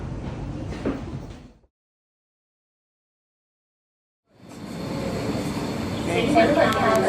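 Sliding train doors closing on a railway line, a rumbling slide and thud, then a sudden cut to silence before the next set of doors and train noise starts up again, loud and close.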